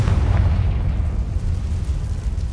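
A fiery blast from the Confringo spell in Hogwarts Legacy booms loud and close, a dense low rumble that holds for the whole moment.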